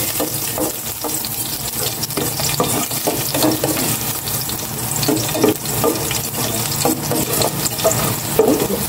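Garlic sautés in hot cooking oil in a home kitchen, giving a loud, continuous sizzle and crackle broken by scraping stirs and small clatters throughout.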